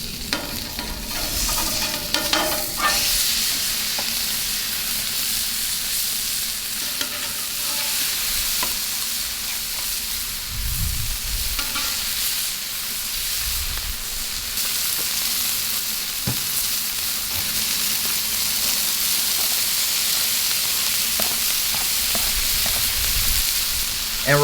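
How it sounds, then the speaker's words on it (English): Oil sizzling steadily as it is spread across a hot Blackstone flat-top griddle, a continuous crackling hiss with faint scraping and stirring sounds, close and moderately quiet, no talking. "I'm gonna throw some oil down real quick"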